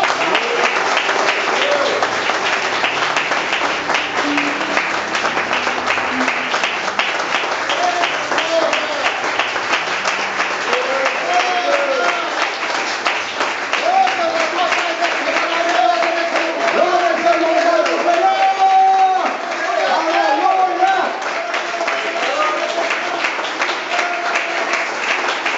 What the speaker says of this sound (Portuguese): Vamos começar saudando o Senhor Jesus com uma salva de palmas.